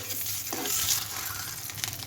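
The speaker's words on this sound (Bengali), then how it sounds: "ডিমটা ভেজে নেওয়া হয়ে গেল।" Egg frying in a pan gives a steady close sizzle and spatter with a few scraping stirs, loud and continuous, with nobody speaking.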